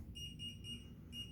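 A tool's gyro alignment alarm beeps faintly in a repeating pattern of four short high electronic tones over a low background rumble.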